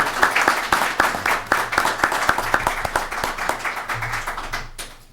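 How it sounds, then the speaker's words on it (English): Brief round of applause from a small audience at a 2017 Hanson candidates forum, distinct individual claps close by, tapering and cutting off after about five seconds. "How about a big round of applause?"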